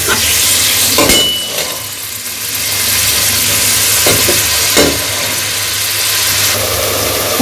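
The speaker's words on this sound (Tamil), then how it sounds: "தக்காளி நல்லா மசியணும், அந்த அளவுக்கு வதங்கணும்." Chopped tomatoes fry in oil for chicken biryani, a loud constant sizzle close by, broken by a few sharp spatula scrapes and knocks against the pan.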